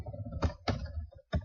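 Keys clatter in three quick bursts as someone types a web address on a computer keyboard, with a short silent gap before the final burst.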